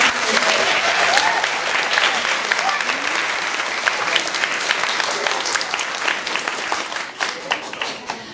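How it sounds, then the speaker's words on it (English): An audience claps and applauds at a school winter music program for fifth and sixth graders, loud, dense clapping that fills the room and slowly thins toward the end, with some crowd voices mixed in. "so if we could give him a round of applause"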